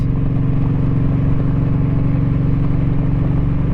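A Kawasaki Vulcan Voyager touring motorcycle cruises along a highway, its engine giving a steady, loud, low drone with wind rush, close by and constant, with no talk.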